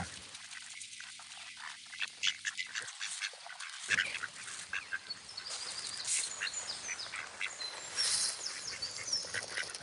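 A flock of ducks quacks and honks while being fed, a busy overlapping chorus of calls at moderate distance under faint background noise, with no talk.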